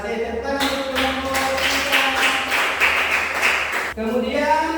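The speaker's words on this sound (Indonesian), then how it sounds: "Tepuk tangan untuk kelompok" Classroom of students applauding a student group, a burst of many hands clapping close by for about three seconds, set between stretches of speech.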